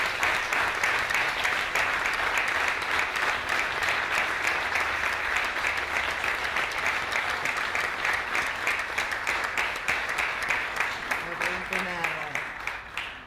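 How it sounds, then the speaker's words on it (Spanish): Sustained audience applause for María Luján Rey and her family at a cultural council event in Morón, steady dense clapping throughout, fading slightly at the end with a brief voice underneath. "Simplemente propongo un aplauso para María Luján."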